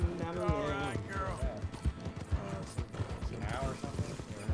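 A horse in Red Dead Redemption 2 runs along a road, its hooves clip-clopping in a quick, steady rhythm close by, while someone talks over it throughout.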